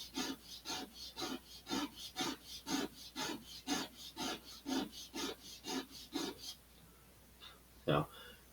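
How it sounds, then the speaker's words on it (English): Rhythmic hand sanding of wood for an Estes Black Brant XII model rocket: about a dozen even back-and-forth rasping strokes close by, followed by a pause and a single louder scrape. "Sand this way."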